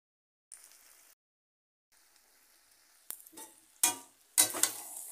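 Braised goat meat with papaya being stirred in a pan, with a quiet sizzle followed by several louder scraping, clattering stirs close by toward the end; no talking.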